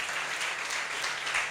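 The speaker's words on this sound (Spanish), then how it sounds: "Dele un aplauso a Cristo Jesús." A congregation at a Holy Week church service applauds steadily, a soft, even wash of many hands clapping at a moderate distance, continuous throughout the short stretch with no voices standing out.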